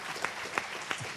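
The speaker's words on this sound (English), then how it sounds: "Let's give an applause for this gentleman for their wisdom that they share." Applause from a forum audience after a plenary session, a brief steady patter of clapping with a few sharper claps standing out, moderately quiet.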